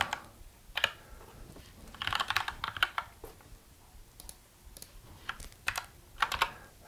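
Keystrokes on a computer keyboard during Excel spreadsheet work, a scatter of light clicks and short bursts of quick taps, fairly close and moderately quiet, with no talking.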